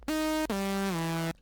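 A sustained synth bass tone with its chorus modulation muted, steady and static, stepping down to a lower pitch partway through, with a brief gap between the two held notes.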